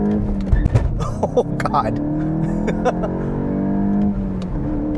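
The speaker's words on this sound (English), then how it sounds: "Ooh, lots of wheel hop." A 2023 Volkswagen GTI engine revs hard and strains under full acceleration, its steady drone broken by rapid juddering thumps of wheel hop, loud and close with a brief spoken exclamation over it.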